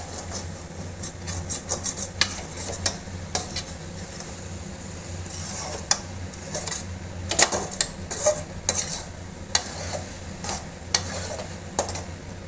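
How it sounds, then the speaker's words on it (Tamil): Egg and capsicum with coriander and curry leaves stirred in a pan, giving a soft sizzle under quick, irregular scraping and tapping strokes of a spoon against the pan, close and moderately loud. "இது கூட இந்த கொத்தமல்லி கருவேப்பிலையை போட்டு மிக்ஸ் பண்ணுறோம்."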